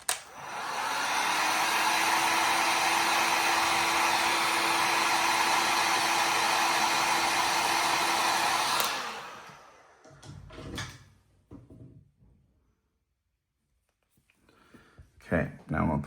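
A hot-air heating tool blows loudly and steadily for about nine seconds while warming a part of a Mythic Legions action figure, then cuts off, leaving faint handling clicks and knocks.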